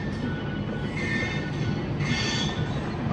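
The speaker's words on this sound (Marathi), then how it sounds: "ट्रेन पण बाजूलाच आहे" A train runs close by near a rural Konkan station, with a continuous rumble of wagons and faint metallic wheel squeals rising at moments, heard steadily without speech.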